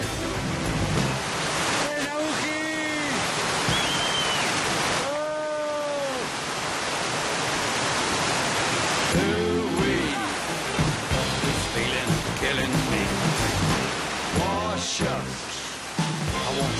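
Strong, steady rush of water surges continuously as the flow rises to build a three-metre wave, loud and close, with brief harmonic tones and clatter cutting through the broadband roar.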